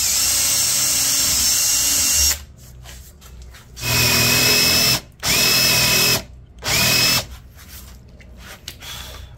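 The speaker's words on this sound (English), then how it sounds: "I can drill here and here for my screws." An electric drill with a brad point bit bores screw holes while building a jig for a Granberg G-1012XT electric chainsaw sharpener. Three loud whining bursts of about a second each come in close succession after a steady machine hum, with no talk.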